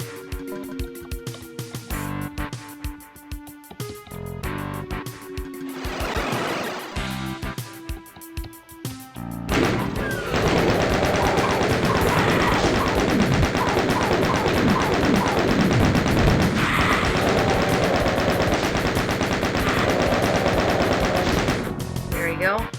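Gunfire in the game Doom 2: scattered shots give way to a long stretch of rapid, sustained firing, loud and continuous, with faint voice in places.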